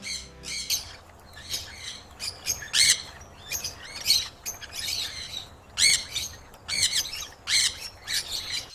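Sun Conure parrots at a breeding farm give harsh, shrill squawks in a constant overlapping chorus, several birds calling at once, loud and fairly close.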